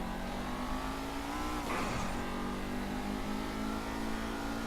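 A Dewbauchee Seven 70 sports car in GTA V drives with a steady, loud engine drone, rising briefly in pitch as it accelerates, with no talking.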